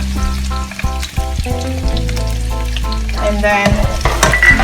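Onions and garlic sizzle and fry steadily in a hot pan for a vegetable curry, with a brief stir partway through and a short spoken remark over the loud, continuous hiss.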